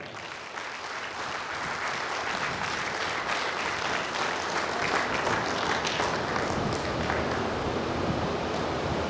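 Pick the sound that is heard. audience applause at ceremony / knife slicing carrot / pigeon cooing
audience applause at ceremony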